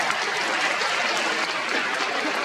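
Dense, continuous audience applause at a fan convention in Paris, loud and even throughout, heard alone with no talk over it.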